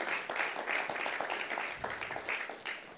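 Lecture audience claps in a short, fairly faint round of scattered applause lasting about three seconds, heard from a distance without voices.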